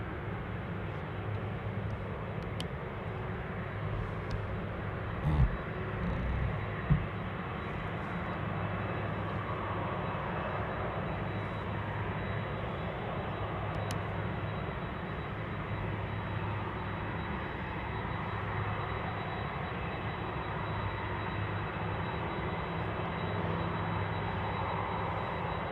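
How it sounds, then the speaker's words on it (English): A FedEx Boeing 777 freighter landing at Anchorage airport, a broad, steady jet roar holding through the whole stretch, with one or two brief knocks near the start and no voices. "It's a 777 freighter coming in from Singapore."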